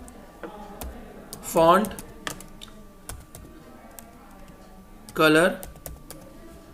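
Fingers typing on a computer keyboard, close rapid clicks in uneven bursts, with a voice speaking briefly over them twice.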